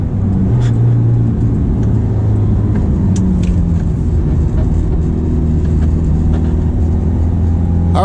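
A Ferrari F430 driven in sport mode on twisty roads gives a loud, steady engine drone heard from inside the car, with sustained low rumble and slight shifts in pitch as it pulls.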